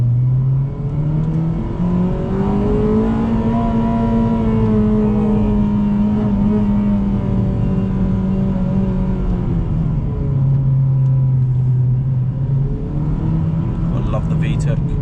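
Honda Civic Type R FD2 four-cylinder with VTEC revving steadily from inside the cabin on a mountain road in Japan, a continuous loud engine drone rising and falling in pitch as it pulls through gears, with a voice speaking over it.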